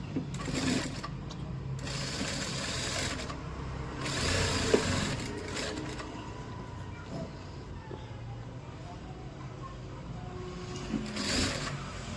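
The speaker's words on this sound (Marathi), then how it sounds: "हे सेंटर पार्ट ठेवून इथे स्टिच करून घ्यायचे आहे" A sewing machine stitches an aari work blouse patch, its needle running in steady rapid whirring bursts with short pauses in between, close and moderately loud.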